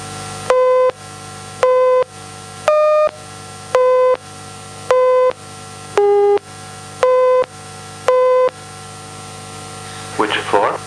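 Eight evenly spaced electronic tones for an elevator counting task, mostly at one middle pitch with a single higher tone and a single lower tone among them, each lasting about half a second against a low background hum.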